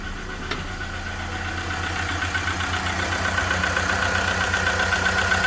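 A VW Golf V 1.4 16V petrol engine idles steadily after a belt and pulley replacement, a close, even mechanical hum with a light rhythmic ticking or knocking from the cam running throughout.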